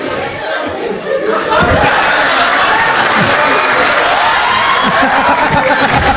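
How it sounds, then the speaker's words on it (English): Comedy show audience breaking into sustained applause mixed with chuckles and laughter, loud and dense after a quieter first second. "Start clapping for Rohan one time, guys."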